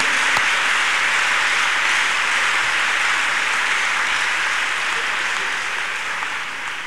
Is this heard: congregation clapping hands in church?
yes